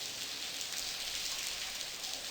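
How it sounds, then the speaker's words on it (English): Heavy pouring rain in the adventure game Blackwell Convergence, a steady, even, close hiss of downpour with no talking. "It's pouring cats and dogs out here."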